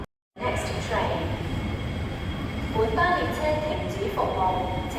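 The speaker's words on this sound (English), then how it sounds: "At least I think I can spot this train entering" A train pulling into Lok Ma Chau Station in Hong Kong, a steady loud rumble of wheels and motors with rising tonal whine and squeals, filling the platform after a brief silent start.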